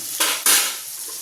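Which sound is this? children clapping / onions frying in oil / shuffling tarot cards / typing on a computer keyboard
onions frying in oil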